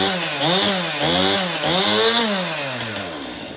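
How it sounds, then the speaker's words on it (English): A chainsaw idles and revs in close succession, three rising-and-falling engine surges followed by a steady slowing drone, loud and alone with no talking. "Chainsaw's ready."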